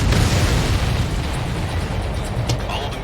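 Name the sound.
missile explosions in Ace Combat 7 video game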